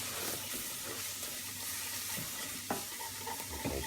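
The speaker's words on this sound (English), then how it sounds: "you're basically adding a ladle full at a time, and starting to mix that in" Thick white sauce for Spanish croquettes is stirred in a hot pan as liquid is added a ladle at a time, giving a steady, close, wet scraping hiss with a couple of sharper clinks near the end.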